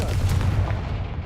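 A Confringo blasting spell explodes in the video game Hogwarts Legacy, a loud, rumbling boom with heavy low-end weight that fills the whole brief moment without a pause.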